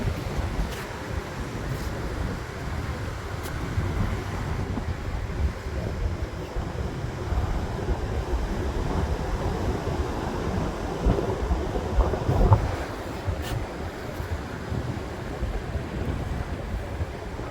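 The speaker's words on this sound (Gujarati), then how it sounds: "આપણે દરિયા બાજુ જોઈ શકો છો દરિયાની વાળો શરૂ છે" Sea waves wash onto the shore below the Bhavani Mata temple at Mahuva while the tide is coming in. The surf makes a steady, rumbling hiss that lasts throughout, mixed with wind buffeting the microphone, and no voices are heard.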